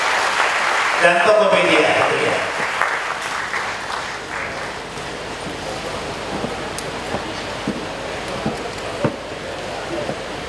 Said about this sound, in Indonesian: Sekarang kita berikan tepuk tangan dan semangat untuk Bandung